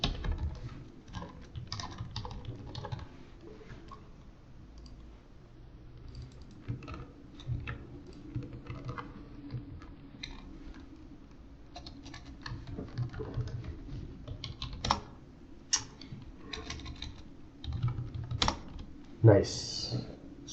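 A computer keyboard is typed on in bursts of rapid, uneven clicks with pauses between them, close and moderately loud over a low background hum, during a hacking exercise.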